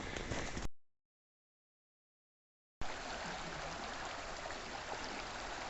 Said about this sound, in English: I believe this is Spring Creek, flowing into the Buffalo.